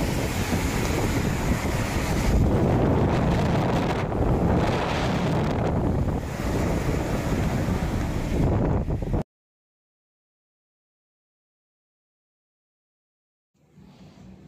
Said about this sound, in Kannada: ಮಳೆ ಅಂತೂ ನಿಲ್ಲೇ ಇಲ್ಲ.